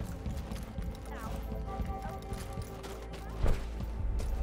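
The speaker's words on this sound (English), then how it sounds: "Really nice footsteps." Footsteps of the main character crunching over small rocks and gravel in the video game Deathloop, a steady run of close, crunchy steps mixed with other game sounds, with a brief heavier impact near the end.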